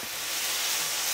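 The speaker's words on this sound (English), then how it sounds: "And put the onion in. Mix that around on high heat." Onion frying hard in a cast iron pan on high heat, giving a continuous bright hiss and crackle close up, with no voices.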